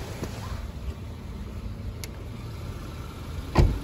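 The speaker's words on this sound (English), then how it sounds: "What I'll quickly do is just pop the hood and show you underneath the hood to show the engine." Four-cylinder engine of a 2015 Hyundai i20 idles with the hood open, a steady low rumble heard close up, with a brief thump near the end.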